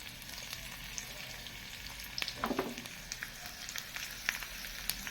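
Cumin seeds, garlic and dried red chillies sizzle and crackle in hot ghee for a dal tadka, a faint, steady frying hiss with scattered pops, close by, with no voices.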